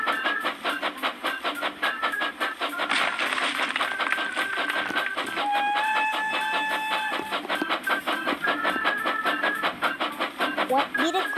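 An old train in the video game Labo Brick Train rattles along with a steady clickety-clack rhythm, its wheels clattering repeatedly while tonal squeals and hums rise and fade over the motion.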